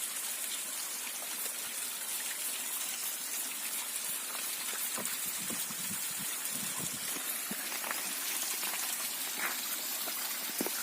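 Continuous rushing, splashing water from a waterfall, steady and close, with scattered sharper splashes and no talking.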